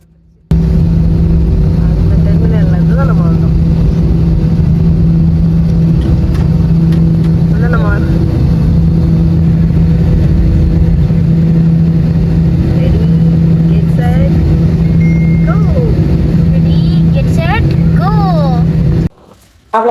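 A vehicle engine drones steadily as the vehicle sets off, loud and close throughout with a continuous low hum, while voices talk over it at intervals.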